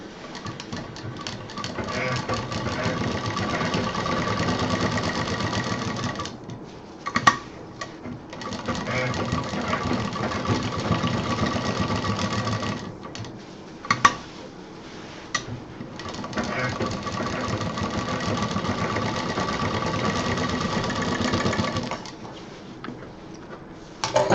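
Sewing machine stitching fabric for a stylish bag or purse, a steady, fast mechanical whirring in several long runs broken by brief stops, close by, with someone talking over it.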